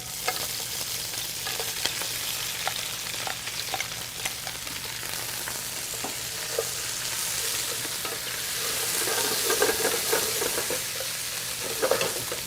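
Lobster shells fry in olive oil and butter for a bisque: a steady, close sizzle with occasional soft stirring scrapes, no talking.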